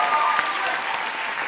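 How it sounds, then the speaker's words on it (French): Brief burst of audience applause for footballer Gregory van der Wiel at a Paris fan event, dense clapping close and steady throughout. "j'ai très envie aussi d'applaudir Grégory Van Der Ville"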